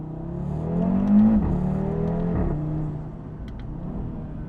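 An Audi RS3 Sedan engine accelerating on a test drive, heard from close by as a loud, rising engine drone that swells to a peak and then settles into a steady hum.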